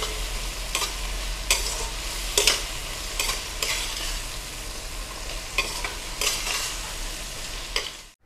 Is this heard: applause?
no